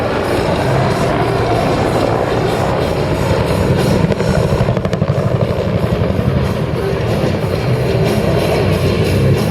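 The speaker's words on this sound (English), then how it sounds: "The AH-1 Cobras performing here today are veterans aircraft with a vast history of combat action" AH-1 Cobra attack helicopters fly at an air show, a loud, constant rotor roar that dominates throughout, with a rhythmic blade chop and a heavy low rumble.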